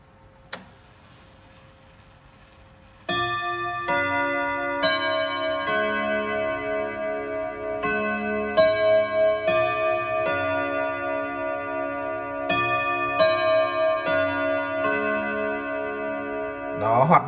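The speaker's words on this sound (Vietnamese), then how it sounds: "mời các bác thưởng thức tiếng chuông của chiếc đồng hồ Odo 54 này luôn" A French Odo 54 chiming clock plays its melody, bright metallic chime notes striking one after another in a steady tune, clear and close after a single short tick at the start.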